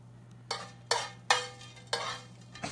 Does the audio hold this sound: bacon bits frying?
yes